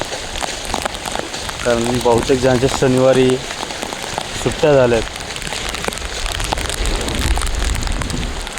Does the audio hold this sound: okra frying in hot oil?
no